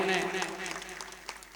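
An audience at a school ceremony claps in a dense, steady patter that gradually thins, with a voice speaking over the applause at the start.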